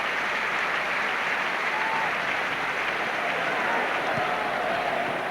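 A football crowd in a stadium applauds an injured player off the field, in a steady, dense wash of clapping that holds evenly throughout.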